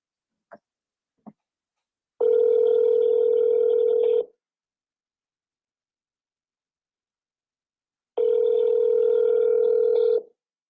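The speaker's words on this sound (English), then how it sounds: "All right, I'm about to call Mark" A telephone dial tone sounds in two steady bursts of about two seconds each, separated by a long pause, while a call is being placed; two brief clicks come just before the first burst.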